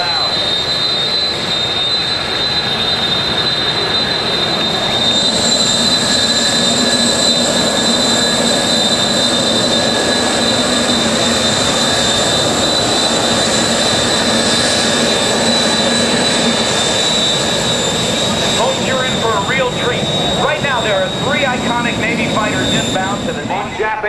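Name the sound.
MS-760 jet aircraft flying past at an airshow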